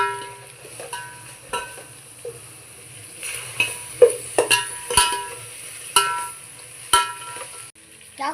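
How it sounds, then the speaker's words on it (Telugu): Ginger garlic paste fries in a pan with a soft steady sizzle, while a spoon stirs and scrapes against the metal in occasional sharp knocks. "అల్లం వెల్లుల్లి పేస్ట్ బాగా వేగుతుంది"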